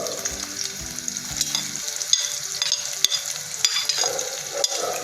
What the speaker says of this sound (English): We have to stir fry these veggies on high flame